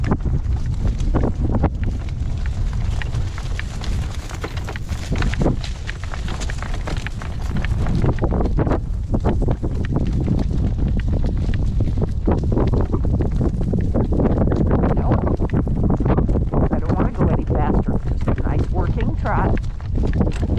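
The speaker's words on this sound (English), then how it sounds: "I know that's a cold wind." Gale force wind storm roaring outdoors across open ground, a loud constant buffeting rush battering the microphone throughout with heavy low rumble.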